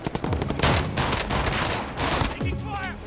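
Rapid gunfire in the Warzone video game, dense bursts of automatic shots and a fusillade of cracks, loud and close, with brief voices mixed in.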